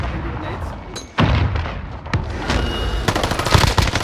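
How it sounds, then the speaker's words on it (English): Grenade blasts and gunfire in a fast online shooter firefight: a sharp boom followed by scattered shots and thumps, loud and close, with faint talk underneath. "I'm throwing nades on you"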